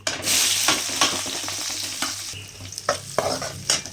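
Onions frying in about a hundred grams of oil with popped mustard seeds for tomato thokku, giving a close sizzle under brisk, irregular stirring scrapes and clinks of a spoon on the pan.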